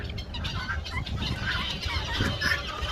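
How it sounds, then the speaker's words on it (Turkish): Small ornamental bantam chickens cluck and chatter continuously nearby, several birds overlapping with occasional sharper calls. "Bizim güzel süs tavuklarımız."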